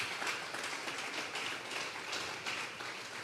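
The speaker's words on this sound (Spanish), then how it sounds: "Vamos a regalarle ofrenda de palmas al Dios de la gloria." A church congregation at a Sunday service clapping their hands together, making a dense, steady patter of many claps that sounds fairly distant and soft and goes on for the whole stretch without talking.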